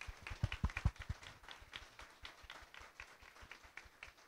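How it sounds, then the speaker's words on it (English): Audience at a panel discussion on LGBTQI+ persecution claps steadily for the panelists, a faint, even patter of many hands running for several seconds without talk. "can we please just give an amazing round of applause to our panelists"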